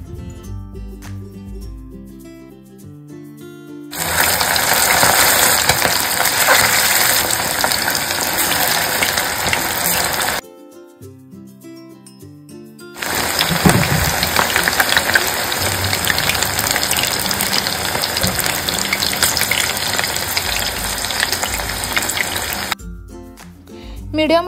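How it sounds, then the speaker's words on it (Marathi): Chicken lollipops lowered one at a time into hot oil, frying over a medium-low flame with a steady, broad sizzle that cuts in and out in two long bursts, with quiet gaps between. "आता एक एक करून हे चिकन आपण तेलामध्ये सोडून घेऊयात।"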